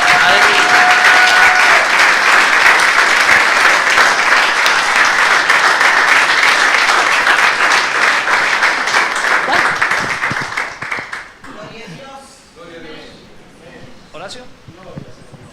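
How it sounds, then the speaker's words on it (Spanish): Loud, sustained applause from a church crowd in one continuous wash of clapping that fades after about eleven seconds, leaving quieter scattered sounds. "Dale un aplauso fuerte a Jesús."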